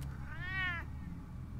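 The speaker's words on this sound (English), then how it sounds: "Oh, this stupid damn cat." A house cat gives a single drawn-out meow lasting under a second, clear and fairly close over a quiet low room hum, with no talk.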